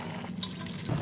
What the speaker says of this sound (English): crystal clear filtered water, and of course your everyday hot and cold water, all from one single tap.